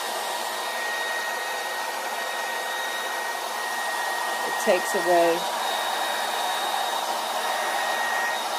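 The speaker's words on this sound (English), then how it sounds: "I take a blow dryer" A blow dryer whirs steadily throughout with a constant airy hum; a voice speaks briefly in the middle.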